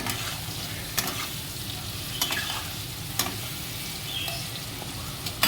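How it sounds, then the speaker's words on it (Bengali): Hot oil sizzling in a pan while cooking chicken manchurian, a steady close frying hiss broken by a few sharp clinks and scrapes, with no speech. "আর একটুখানি তেল আছে, গরম তেল আছে, দিয়েই দিই"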